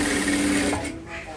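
A sewing machine runs a quick top stitch along the shoulder seam of a dress top, a close mechanical whirr that lasts about a second and then stops.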